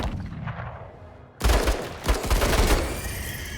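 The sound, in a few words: mortar fire in the video game Menace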